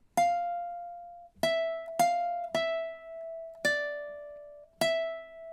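Ukulele plays measures 8, 10, 11 and 12 of a tune, six sharp plucked notes ringing out over sparse, evenly spaced attacks, close and fairly quiet, with the tremolo picking a little uneven and no voices.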